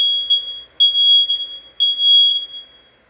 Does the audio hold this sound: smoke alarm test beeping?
yes